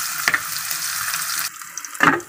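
Garlic and onion sizzling in a frying pan while cooking pinangat mackerel, a steady crackling fry broken by a couple of sharp clatters of stirring or added ingredients.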